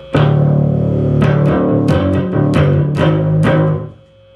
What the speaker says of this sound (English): Today we're practicing with our Fender Jazzman